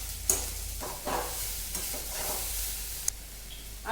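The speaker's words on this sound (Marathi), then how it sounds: "थोडी परतवून घेऊ" Dry Maharashtrian usal sprouts with salt and turmeric being sautéed in a pan, a continuous gentle sizzle with a few sharp utensil taps and scrapes, close and quiet with no talking.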